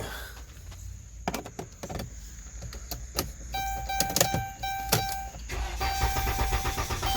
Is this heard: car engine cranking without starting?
yes